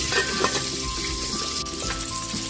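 Hiwas fish frying in a pan, a dense crackling sizzle with bursts of popping oil, loud and close, no talking.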